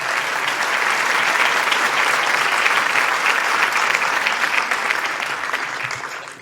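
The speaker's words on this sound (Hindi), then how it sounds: "जोरदार तालियों से स्वागत करें अपने बीच" Loud, sustained applause from the audience at a Hindi Kavi Sammelan poetry gathering as a poet is welcomed, a thick wash of clapping that swells and then tapers near the end.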